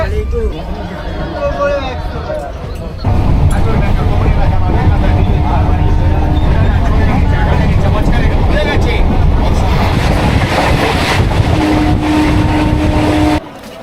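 Inside a moving passenger train, a heavy continuous clatter and rumble of the carriage, growing louder partway through, with passengers chattering and brief tonal whines over the din.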